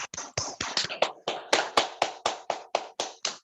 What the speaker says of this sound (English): So this clap is for your children.